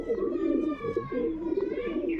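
A female pigeon coos in a low, throaty, repeated rumble, close and steady.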